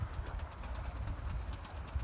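Tumbler game pigeons cooing outdoors in cold weather, a soft, low repeated coo heard faintly among wind and rumbling background noise.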